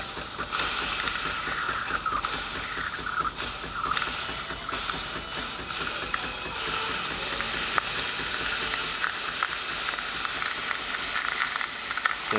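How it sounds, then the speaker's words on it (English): Steam valve of a Saeco Incanto coffee machine releasing a loud, continuous close hiss with sputtering bursts that grows slightly stronger toward the end, no talking. "So definitely see we have a lot of steam here."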